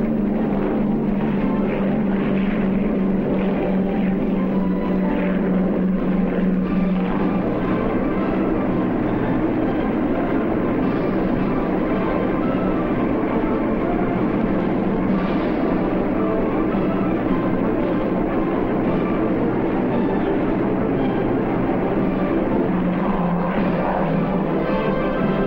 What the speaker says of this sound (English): The big 4-motored Sunderlands operate well in conjunction with 2-motored PBMs.